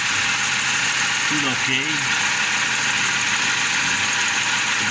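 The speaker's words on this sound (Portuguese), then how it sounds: "eu liguei o motor agora" A Hyundai HR engine idles with a steady, even drone, checked for injector noise; a voice speaks briefly partway through.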